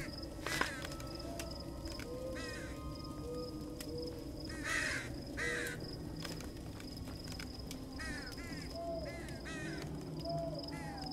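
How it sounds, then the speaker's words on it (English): Crows caw repeatedly in a creepy video game level of Them and Us, harsh calls recurring throughout over a steady droning ambient backdrop, moderately loud and without talk. "The crows."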